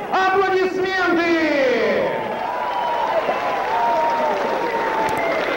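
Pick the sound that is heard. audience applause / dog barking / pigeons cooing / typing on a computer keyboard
audience applause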